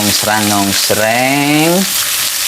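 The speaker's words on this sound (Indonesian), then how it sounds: "saya akan mulai menumis. Karena saya menggunakan bawang bombay, yang saya tumis pertama bawang bombay ya" Sliced onion (bawang bombay) sautés in hot oil with a bright, hissing sizzle. Two drawn-out voiced sounds ride on top of the frying.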